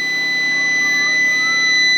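An EG4 Chargeverter battery charger sounds its alarm beeper: a shrill, steady electronic tone holds at an even level for the whole two seconds over a low hum, with no talking.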